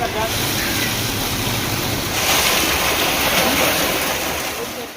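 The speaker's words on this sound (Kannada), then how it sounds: "ಅಲ್ಲಿ ಸಮುದ್ರದ ಅಲೆ ನೋಡಿಕೊಂಡು ಆಹಾ ಸೂಪರಾಗಿ ಸ್ವಲ್ಪ ಟೈಮ್ ಪಾಸ್ ಮಾಡಿದ್ವಿ" Sea waves at Gokarna beach wash in a loud, continuous roar of surf, mixed with buffeting wind on the microphone and swelling slightly midway, with no clear voices.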